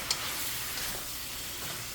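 Squid adobo with crushed black pepper sizzles steadily in a hot pan while being stirred, a close, continuous frying hiss with faint scraping and no talking.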